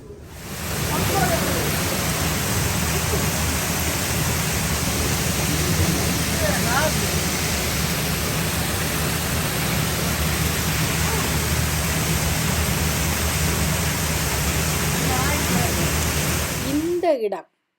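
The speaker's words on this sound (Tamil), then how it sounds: "இந்த இடத்துல தான் சுடுதண்ணீர் வந்து கொண்டிருக்குது" Naturally hot spring water flowing in cold weather makes a dense, steady rushing hiss, loud and close, continuing evenly until it cuts off at the end. Faint voices may sit under it.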